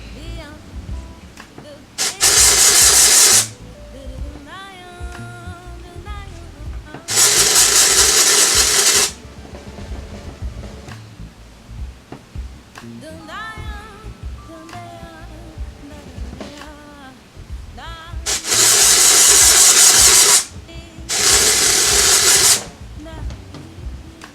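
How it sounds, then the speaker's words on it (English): A dry shampoo aerosol is sprayed onto natural heat-trained hair in four sharp hissing bursts, each lasting one to two seconds. A person talks in the pauses between the sprays. "So now I'm spraying a little bit more so that way I can see kind of the white film show up"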